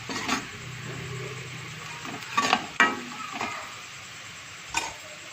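Chopped onion sizzles steadily in a hot pan, a constant close hiss broken by a few louder scraping stirs of a spoon against the pan.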